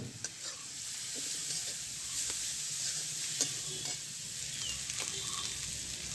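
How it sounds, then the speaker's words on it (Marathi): Dried fish with spices and turmeric sizzles steadily in hot oil in a pan, with occasional scrapes and clicks as it is stirred, close and continuous with no talking. "हे मसाले म्हणजे परतून घ्यायचे तेलामध्ये। आणि त्यानंतर आपण जो भाजलेला सुकट आहे, सुकट आणि गोलमा"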